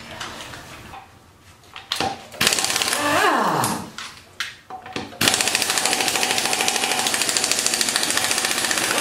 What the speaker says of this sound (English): An impact wrench.